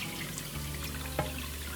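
Tap water runs steadily into a saucepan of vegetables, a continuous splashing fill with a brief drip or clink near the end, close and moderately loud.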